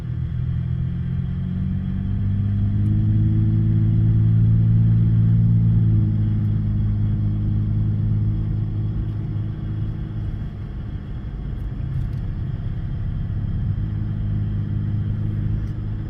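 A car engine produces a continuous low droning rumble on a road trip in Utah. It rises a little in the first few seconds, then holds steady and loud for the whole stretch, with no talking.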